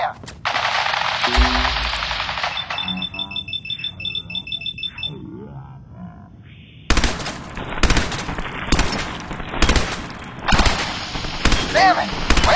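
Sustained automatic gunfire from soldiers in the video game Fallout 4, loud and close, with rapid bursts, sharp cracks and shouting voices mixed in throughout.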